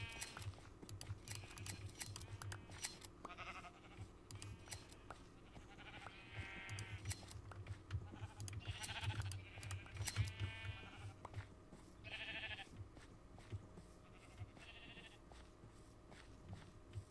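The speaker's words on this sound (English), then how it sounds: "Actually, you know, I'm gonna shear these sheep." Sheep bleat in the Minecraft video game, with several short, close bleats spread across the stretch over a quiet background, and faint clicking in between.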